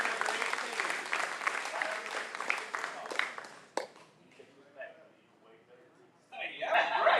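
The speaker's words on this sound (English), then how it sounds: "give Bruce a round of applause." An audience at a live auction bursts into loud, dense applause and some chuckles after a sale. The clapping fades to near quiet, and then voices and cheering pick up again at the end.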